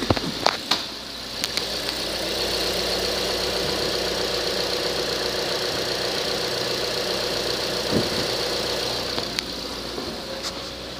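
A 2011 Chevrolet Cruze LS engine idles steadily in drive, a low continuous hum with faint mechanical ticking and a couple of brief clicks, close by with no talking.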